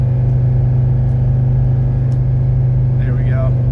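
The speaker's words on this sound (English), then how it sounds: "We're going to accelerate up this hill. Check the health of the motor." Engine of a 1985 Mercedes 300CD pulling steadily uphill under acceleration, a constant loud low drone from inside the car with a faint brief higher tone near the end.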